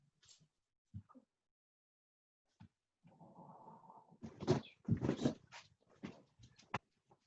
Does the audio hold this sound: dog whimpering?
yes